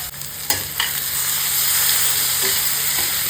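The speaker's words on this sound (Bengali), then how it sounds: "এবার এই তেলেই একটু দিয়ে দিচ্ছি কালো জিরা ফোড়ন, কাঁচা লঙ্কা, কচুর শাক, পরিমাণ মতো নুন আর হলুদ।" Nigella seeds, green chillies and taro leaves frying in a pan of hot oil, a steady close sizzle with a few stirring scrapes, no talking.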